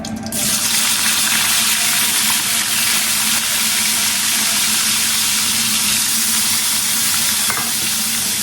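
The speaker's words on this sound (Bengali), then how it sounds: "চিংড়িটাকে নাড়তে থাকবো আর ভাজতে থাকবো" Prawns coated in turmeric and salt fry in a pan with a loud, continuous sizzle and crackle, steady throughout with occasional stirring.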